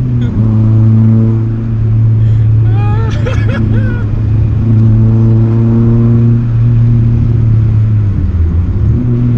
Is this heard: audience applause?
no